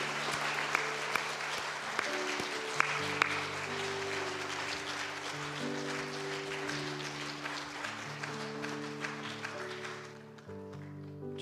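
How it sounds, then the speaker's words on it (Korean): A church congregation at a Sunday afternoon worship service applauds in steady, dense clapping that carries on for about ten seconds, then fades out, while organ or keyboard chords sound underneath. "격려의 박수."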